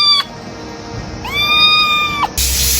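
A small kitten gives two close, loud meows: a short cry, then a longer drawn-out one after a brief pause.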